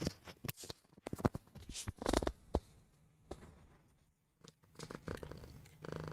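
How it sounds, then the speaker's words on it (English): A soft, close purring rumble of a cat, with scattered rustling and handling noises breaking in and out; no one speaks. "just purring away"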